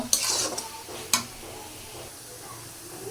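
Spice paste fries in a pan for a bottle gourd greens and tilapia curry, giving a soft steady sizzle, with a couple of sharp stirring scrapes and clinks near the start, then quieter frying.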